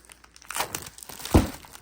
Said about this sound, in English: let's go ahead and get this second one open. And we're just going to jump the gun, use our scissors